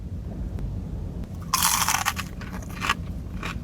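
A crunchy fried falafel bitten up close gives one sharp, loud crunch, followed by a few softer crackles of chewing against a quiet room background.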